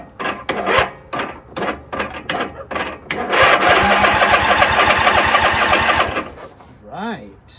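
A John Deere Z225 zero-turn lawnmower's 20 hp Briggs V-twin engine cranks over in a steady rapid chugging without firing, preceded by several short bursts and followed by a brief tone, with people talking nearby.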